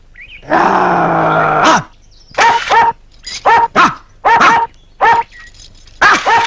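A dog gives one long drawn-out whining howl, then a series of short sharp barks and yelps in uneven bursts, loud and close with silent gaps between them.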